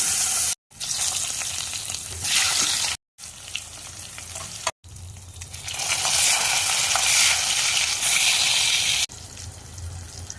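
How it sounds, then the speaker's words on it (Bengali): Long brinjal slices coated with salt and turmeric sizzle loudly in hot oil already used for frying fish, a continuous crackling fry with short breaks and occasional stirring. "এবার আমি বেগুনগুলোকে একটু হালকা করে নুন হলুদ মাখিয়ে ভেজে নেব।"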